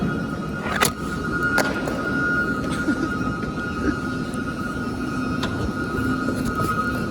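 A train rumbles steadily past, with a continuous low roar, a sustained tonal whine, and occasional sharp clanks and squeals over the noise.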